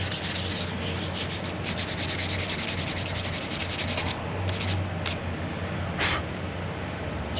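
Curb rash on a Camaro SS wheel being sanded by hand: continuous rapid gritty rubbing strokes, close and steady, with a few brief pauses near the end and no talk.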